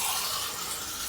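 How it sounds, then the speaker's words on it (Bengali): Water poured into a pan of spicy singi and magur fish curry with potato, tomato and onion, a steady broadband splash and gush lasting about a second, close and fairly loud with no talk. "আরেকটু জল অ্যাড করে আমি"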